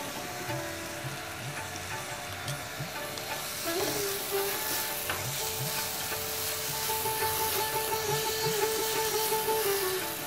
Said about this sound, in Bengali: পেঁয়াজটা একটু লাল করে ভাজবে না